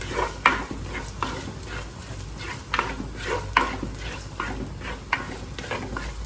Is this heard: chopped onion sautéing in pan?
yes